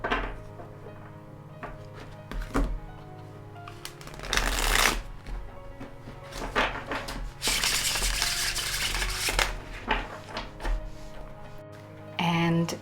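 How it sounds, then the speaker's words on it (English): A thick-cardstock tarot deck is shuffled in bursts of riffling and sliding card noise, with pauses between passes and a few soft knocks, heard up close and alone. "it shuffles not so well because of the very thick cardstock"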